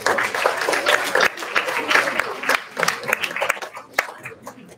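Audience applause for teachers and students at a school's 50th anniversary celebration: dense, steady clapping from a crowd fills the room, with voices talking over it.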